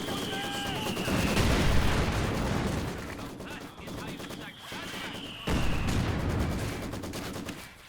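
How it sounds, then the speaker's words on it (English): Battle sounds in Company of Heroes 2 with a heavy mortar among the weapons, heavy thudding shots and booms amid rattling gunfire, with a couple of sharp onsets and a high whistling tone early on. "So that's a heavy mortar."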